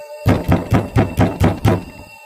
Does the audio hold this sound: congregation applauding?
no